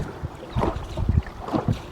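Wind gusts buffet the microphone on a small fishing boat out on the water, low rumbling blasts that swell and fade in uneven pulses, close and fairly loud.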